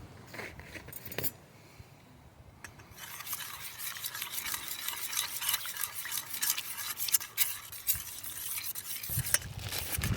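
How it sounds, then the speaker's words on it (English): Rice stirred into a taco sauce mixture in a small mess kit pan, a soft scraping and rustling that grows busier after a brief pause, close and fairly quiet. "We'll stir this rice mixture right in."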